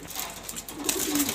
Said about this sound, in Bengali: ওই যে এটা মাদি কবুতর, এটা নর কবুতর।